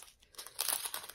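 Small plastic bags crinkle and rustle close by, soft at first and then in a denser burst of crackling handling.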